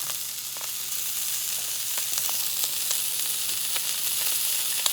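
Japanese wagyu beef sears in a hot pan, giving off a continuous, even, close hiss of sizzling with faint scattered pops and no talking.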